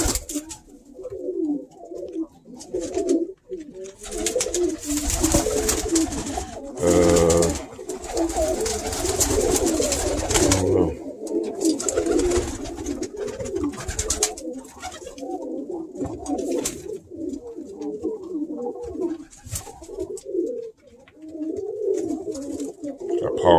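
Pigeons coo repeatedly, close by, in soft throaty bursts with some rustling and handling noise mixed in.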